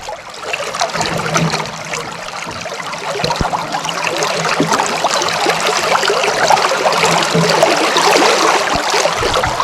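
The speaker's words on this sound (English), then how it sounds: "have a listen to this tide roaring in" Continuous rushing water with a broad, steady roar that builds slightly as an 8-metre tide flows in on the Durack River, Australia, with occasional low knocks from a swinging boat and no voices.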